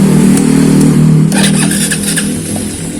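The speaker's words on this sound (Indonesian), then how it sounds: "Nah, ini juga langsung hidup pakai double starter." Yamaha Vega motorcycle fitted with a Shogun 110 CDI, its engine running loud and close with a steady idle rumble, then a few sharp rev bursts.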